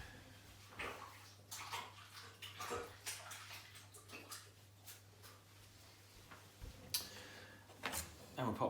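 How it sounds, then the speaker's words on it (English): A hand is rinsed under running water from a tap while making sourdough, a close splashing gush that comes and goes in bursts over a low steady hum. "Rinse my hand."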